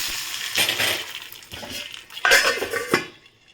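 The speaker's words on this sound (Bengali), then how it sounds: "ফোড়নটা দিয়েই সঙ্গে সঙ্গে আমি ঢাকা দিয়ে দেবো।" A metal lid clatters onto a pot of freshly tempered spices, giving a few short clinks and scrapes of metal on metal, close and fairly loud.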